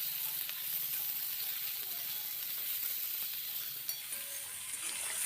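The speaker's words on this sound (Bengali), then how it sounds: "এখন বেগুনটাকেও এর মধ্যে একটু সময় ভেজে নিচ্ছি।" Cut eggplant pieces fry in a pan with a steady, close sizzle and hiss, occasionally stirred, after earlier ingredients for a Bengali spinach dish.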